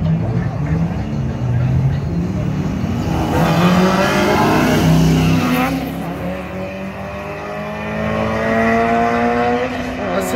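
A turbo Mustang and a turbo 240SX drag race down a strip, their engines roaring loud and rising as they accelerate, with tire noise and crowd chatter underneath.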